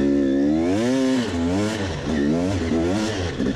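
Enduro motorcycle engine at a motocross test stage, loud and close, revving up and down in wavering pitch sweeps over a few seconds.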